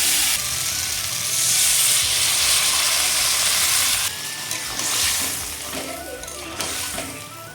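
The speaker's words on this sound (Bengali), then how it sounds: "কাঁকড়াটা কষানো হয়ে গেছে এবারে এর মধ্যে আমি জল দিয়ে দেবো" Sea crab curry, already well fried in its spices, hisses loudly in a hot pan, then the sizzle breaks and softens into quieter bubbling and spitting as water goes in, close and without talk.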